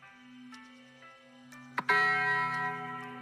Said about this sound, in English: It's the wedding bells.